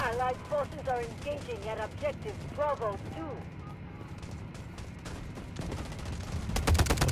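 Rapid gunfire in the mobile shooter Delta Force Mobile during a tank-heavy battle, with repeated loud bursts of shots under excited talk that grow denser toward the end.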